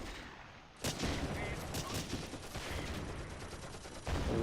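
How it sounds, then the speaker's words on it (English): Bursts of machine gun fire in a Close Combat battle crackle at moderate loudness, with heavy sustained shooting that runs most of the way through, sitting in a busy wartime game soundscape. "they're coming under some quite accurate and heavy machine gun fire"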